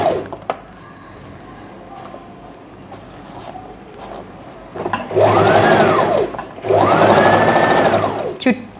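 A sewing machine top-stitching a princess cut blouse: two loud, steady running bursts of whirring stitching close by, each lasting a couple of seconds, following a quieter stretch with faint handling sounds and a voice speaking.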